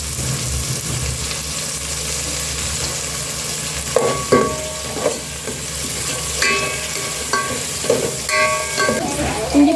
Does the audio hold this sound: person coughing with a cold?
no